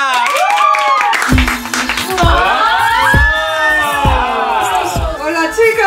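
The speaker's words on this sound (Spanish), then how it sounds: "Un fuerte aplauso para Fizpi O'Hara" A television gala studio audience claps, whoops and cheers loudly and close, with voices shouting over the steady applause throughout.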